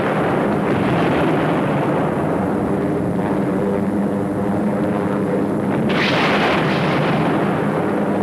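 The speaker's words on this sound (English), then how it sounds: "In just 5 hours, 600 tons of bombs fell on the monastery of Monte Cassino." Heavy bombs exploding on the Monte Cassino monastery in World War II, a continuous dense roar of blasts and rumbling with a sharper burst near the end, loud and unbroken throughout.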